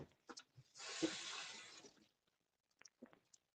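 Tap water runs in a steady rush for about a second and a half, rinsing off a heat-gun craft piece in a sink, followed by a few small knocks and clicks.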